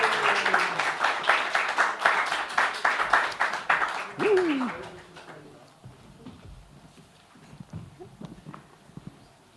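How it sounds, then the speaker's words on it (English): An audience at a freedom-of-expression challenge event claps warmly to welcome the teams and judge on stage. Brisk, crowded clapping lasts about four seconds and then dies away, leaving a quiet room with a brief voice and scattered small sounds. "Please give them a warm round of applause"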